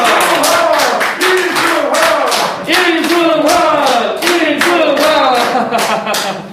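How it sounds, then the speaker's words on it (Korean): Lecture audience applauding loudly at the close of a special guest talk on speech skills at a Korean cyber university, steady dense clapping with scattered shouts and a voice speaking over it throughout. "다시 한 번만 더 저희 박수 한번 보내드리겠습니다."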